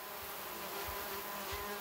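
Bees buzz steadily around flowers in an organic market garden in the Amiens hortillonnages, where tomatoes, peppers and aubergines grow; a close, continuous insect drone with no voices.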